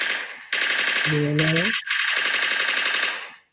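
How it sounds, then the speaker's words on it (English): Rapid bursts of gunfire crackle loudly and close, a dense rattling volley that cuts off briefly, resumes, then fades out, with a short tonal sound in the middle. "Gunshot in the air."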